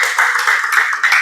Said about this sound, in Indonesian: Tepuk tangan dulu untuk Arfa.